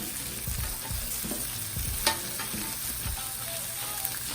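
Steaks sizzle and crackle steadily on a Blackstone griddle, a continuous close frying hiss with a few soft scrapes and taps throughout, no talking.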